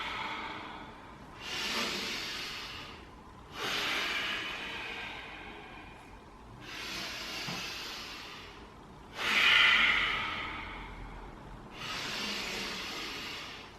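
Deep, slow breaths are taken during yoga side stretches: five long airy inhales and exhales, each lasting a second or two, separated by short quiet gaps, close and moderately soft, with no speech.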